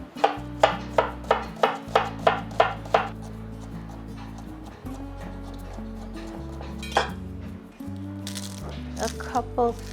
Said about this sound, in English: I'm going to chop up one onion.